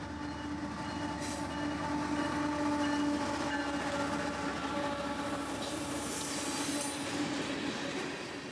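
A freight train rolls steadily past with a continuous rumble of wheels on rails, a faint tonal squeal or distant horn riding over the constant roar.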